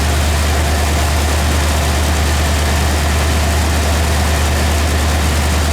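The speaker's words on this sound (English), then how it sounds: "If you hear a little rattling noise, that's the PCV valve's a little noisy on this." A junkyard truck engine idles at close range in a steady, loud low rumble, with a slightly noisy PCV valve adding a faint rattle within the continuous drone, and no one speaks.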